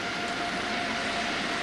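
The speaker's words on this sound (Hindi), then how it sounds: "सी किंग हेलीकॉप्टर्स की फॉर्मेशन" Sea King helicopters flying in formation over the Pakistan Day parade air show produce a steady, loud, broad engine roar overhead that holds without a break.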